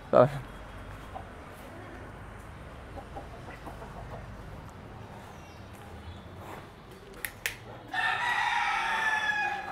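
Fancy rooftop-reared chickens clucking at a poultry sale, with a sharp squawk at the start and a loud rooster crow near the end over low murmuring voices and farmyard bustle.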